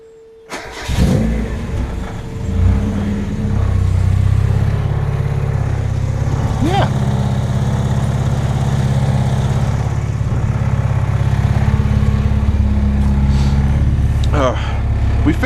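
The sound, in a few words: 1991 Mazda Eunos MX5 Miata 1.6 engine starting and running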